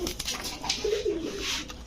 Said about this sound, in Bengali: নর কবুতর মাক্সি রেসার